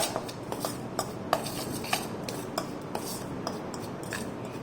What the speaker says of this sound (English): now this is all the dry mix. Let us just mix it once.